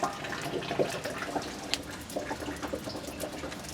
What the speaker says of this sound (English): Some drips coming through the center.